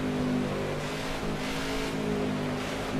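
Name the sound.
race car approaching in the video game NASCAR '15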